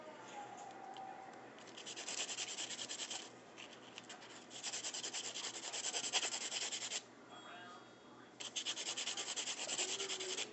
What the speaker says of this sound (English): So, got my buffing block and I'm going to go right on top. Side to side so that it'll be equal on both sides